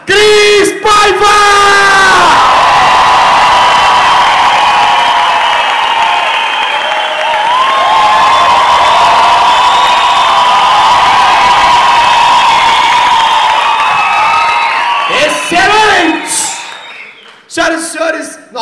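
Studio audience at a stand-up comedy show cheering and yelling loudly for a comedian's entrance, a sustained roar of whoops and shouts with applause mixed in, near and intense, ending in a few louder bursts.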